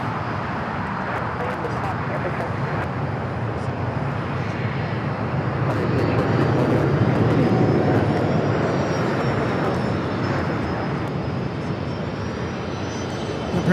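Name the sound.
Emirates Boeing 777 taking off from runway 25 left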